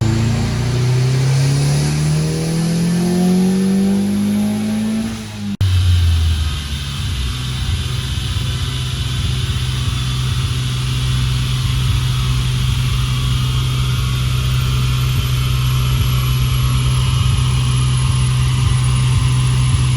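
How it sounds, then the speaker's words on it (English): A custom car engine revs hard through a full pull in fourth gear, a loud, steady climbing drone that cuts abruptly, then settles into a sustained low hum at a constant pitch. "So that was the first kind of full rip I've done in fourth gear."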